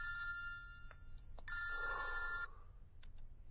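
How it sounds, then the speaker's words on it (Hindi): A telephone bell rings in rapid repeated bursts, loud and close, with a brief click between rings before it stops, in an indoor comedy scene. "फोन उठा, मेरा फोन उठा।"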